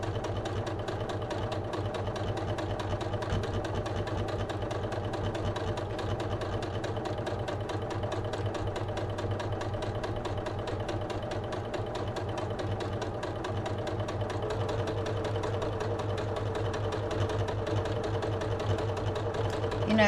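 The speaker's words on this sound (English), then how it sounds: "Sewing all the way around." A sewing machine runs continuously while stitching all the way around a small circular fabric bag, a steady fast mechanical chatter and hum that holds even for twenty seconds without pause, fairly loud and close.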